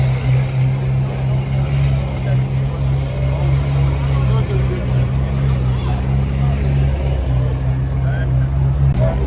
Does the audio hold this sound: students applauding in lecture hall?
no